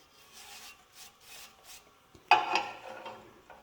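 Reaming a hole in a John Deere 4020 engine part during a rebuild: a few soft rubbing strokes of metal, followed by a sharper, louder scraping rasp that fades out, with no talking.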